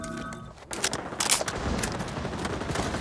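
Gunfire in the video game XDefiant: a burst of rapid shots and impacts through the middle, with a steady rattle of continuous fire carrying on loudly to the end.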